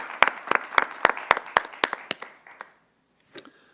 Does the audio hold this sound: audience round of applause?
yes